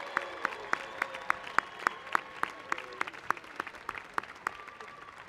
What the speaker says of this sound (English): Let's give everyone on the class of 2025 another round of applause.